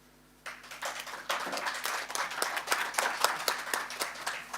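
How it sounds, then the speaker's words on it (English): Audience applause breaks out after a conference presentation on accessible civil service, starting as a few scattered claps and swelling quickly into steady, dense clapping from a mid-sized crowd. No talking is heard. "Well-deserved applause"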